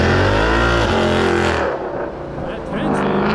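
A car with a 10-speed transmission on a mountain run: the engine revs loud and close, with a rising then falling roar and a dip near the middle. Excited voices can be heard over the engine.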